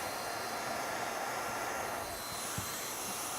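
A hot air welder blows a constant, even whoosh while welding a T-lap seam on roofing membrane during a pitch pan installation, with a faint tap near the end.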